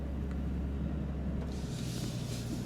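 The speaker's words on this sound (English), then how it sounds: "help the Tremor easily make its way up this hill" A 2024 Ford F-150 Tremor on 33-inch all-terrain tires climbs a hill, its engine a steady low rumble heard from inside the cab, with rising rustle and crunch from the tires and terrain in the second half.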